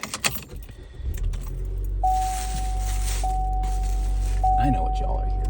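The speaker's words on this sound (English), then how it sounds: "let's get the car going" Car keys jangle up close, then a car starts up and settles into a steady idle hum, with a chime beeping repeatedly over the running engine.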